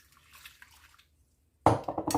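Water from a glass is poured into a brioche starter made with flour, with faint trickling first, then a louder, splashing pour over the last half second.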